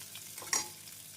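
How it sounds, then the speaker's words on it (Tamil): Chopped onions sautéing in a pan for an onion-tomato chutney give a steady close sizzle, with one brief scrape of a stirring spoon partway through. "வெங்காயம் 1 நிமிடம் வதங்கவும்"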